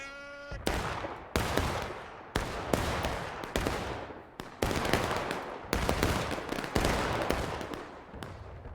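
Musket volley fire rings out in War of Rights during a 160-player online battle on the Pry Ford map: loud, crackling bursts of many overlapping shots that erupt again and again at roughly one-second intervals, each fading into a rattling tail.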